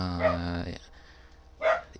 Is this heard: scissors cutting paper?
no